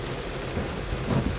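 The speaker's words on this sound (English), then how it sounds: "The rain's coming down kind of moderate" Moderate rain falls on a moving car, a dense, even patter on the roof and glass with a low road rumble underneath, brief and steady.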